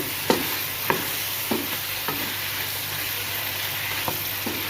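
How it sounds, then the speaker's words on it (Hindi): Chicken being fried and stirred in a pot with cumin and black pepper for a bottle gourd chapni dish: a steady sizzle throughout, with about six distinct scraping stirs spaced roughly half a second to a second apart. "अच्छा, चिकन की भुनाई भी काफ़ी ज़्यादा हो गई है।"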